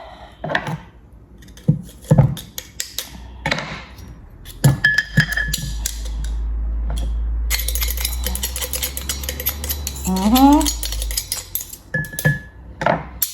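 Garlic being chopped for a cucumber salad: sharp irregular knife taps on a board, a stretch of rapid clicking and a few clinks of utensils, close and fairly loud, with no talking.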